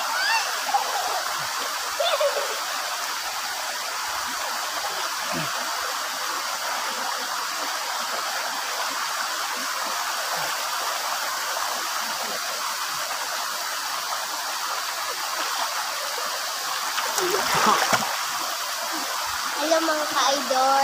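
River water rushes continuously around someone bathing in the river in a rural province, a steady hiss with occasional splashes and brief, indistinct voices.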